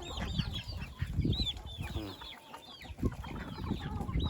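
Chickens and ducks at a farm pen during morning feeding, with repeated close clucking and small squawks from several birds, a busy flock over low background noise.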